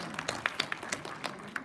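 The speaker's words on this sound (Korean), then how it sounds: "큰 박수 보내주셔서 감사합니다." Audience applause in a school hall at a research school presentation, a faint, steady wash of scattered clapping with irregular sharper claps standing out briefly.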